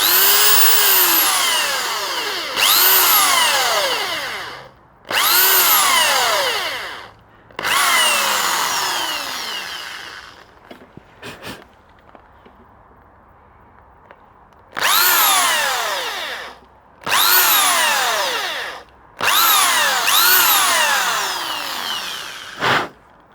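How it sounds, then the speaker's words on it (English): A power drill whines in repeated bursts as it bores at an angle through field maple wood, pitch rising each time, with short pauses and a brief clatter midway. "now I can start and drill through"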